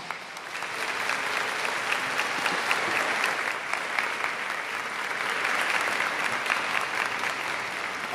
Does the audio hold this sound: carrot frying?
no